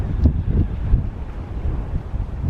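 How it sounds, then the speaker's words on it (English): A big gust of wind buffets the microphone outdoors, a low rumbling, uneven rush with irregular thumps that stays fairly loud throughout and carries no speech. "there's a big gust"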